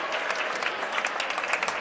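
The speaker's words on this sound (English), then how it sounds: "the Liberty crowd will give him a nice round of applause" A basketball crowd in a school gym applauds a junior player leaving the game, steady dense clapping heard throughout from a distance.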